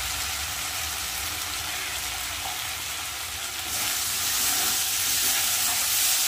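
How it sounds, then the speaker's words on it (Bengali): Spices frying in oil for a mung soybean curry, a dense, steady sizzle that swells louder partway through as they are stirred in the pan. "ভালো করে মশলাটা কষিয়ে নেব।"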